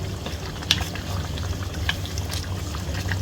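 Moringa masala simmers in a pot, a steady close bubbling hiss with occasional small pops and splutters throughout, no voices.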